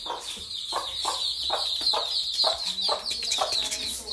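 Hens and their chicks cluck and peep together in a village poultry area, close and busy, with rhythmic clucks repeating under a constant high chirping of chicks.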